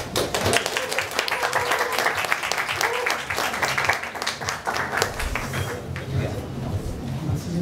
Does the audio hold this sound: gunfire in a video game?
no